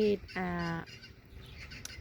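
Chickens outdoors during a nature walk give two loud, harmonic clucking calls, a short one and then a longer drawn-out one, followed by quieter outdoor background.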